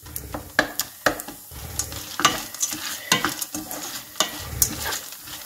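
Popcorn kernels coated in sugar and ghee are stirred in a pan, with steady scraping and clinking strokes over a soft, continuous sizzle.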